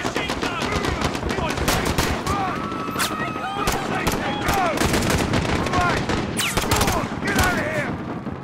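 Dense automatic and single gunfire from Call of Duty: Modern Warfare, set in a London attack scene, crackling continuously with loud bursts and booms throughout, mixed with faint game voices.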